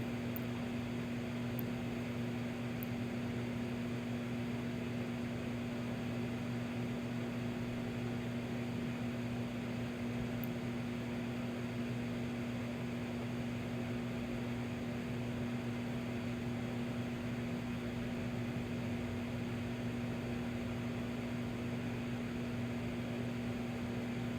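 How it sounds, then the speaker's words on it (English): A microwave oven hums steadily with a constant low electrical drone and whirring fan, unchanging for the whole stretch, with no voices. "it's going to have to go back in the microwave for another minute"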